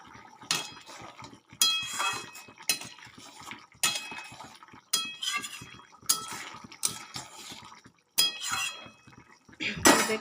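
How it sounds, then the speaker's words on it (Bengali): A lid lifts off a pot of boiled lentils with egg, giving a series of clinks and metal-on-glass taps that repeat roughly every second, close and fairly loud with faint bubbling between them. "এবার আমি ঢাকা খুলে দিলাম"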